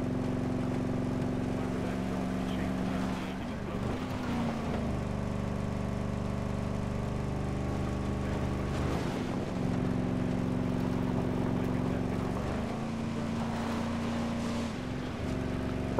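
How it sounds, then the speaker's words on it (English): In the Ghost Recon Breakpoint video game, a vehicle's damaged engine drones steadily and labors while losing power, its pitch dipping and shifting under constant road and wind noise. "They must have shot something in the engine."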